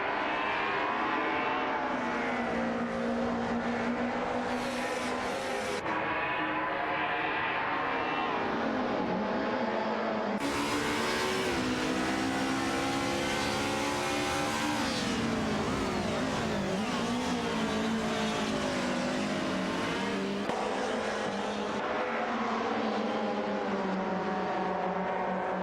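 Alfa Romeo 155 and Mercedes 190 race cars in a racing video game, engines revving and shifting continuously as the two cars jockey closely for position, loud and steady throughout with rising and falling pitch.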